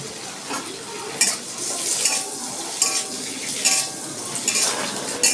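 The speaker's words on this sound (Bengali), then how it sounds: "এবার আঁচটা কম করে আমি বলগুলো একটু ঘিতে বেজে নিচ্ছি" Small coconut balls fry gently in ghee on low heat, with a soft steady sizzle broken by repeated scraping and clinking of a metal spatula against the pan, close and alone without speech.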